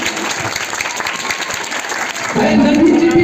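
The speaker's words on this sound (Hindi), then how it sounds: "इसके लिए एक जोरदार ताली हो जाए" An audience at a school gathering honoring a class 10 student breaks into loud, close applause that swells in the final second, after a stretch of scattered clapping mixed with speech.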